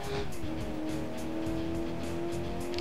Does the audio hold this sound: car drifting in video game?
yes